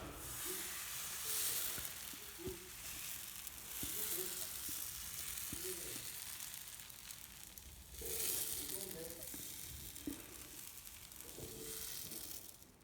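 Crêpe batter cooks in a hot pan with a steady, quiet sizzle and frying crackle, broken by occasional soft scrapes and clicks of a utensil.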